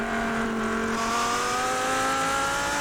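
Race car in the iRacing GT3 sim at Sebring sliding through a bend, a steady sustained engine tone with rising pitch and tyre scrub running continuously for a few seconds, no talk.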